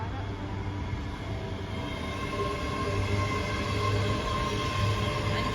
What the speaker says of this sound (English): The train arriving at platform 2 is the 1451 service to Glasgow Central.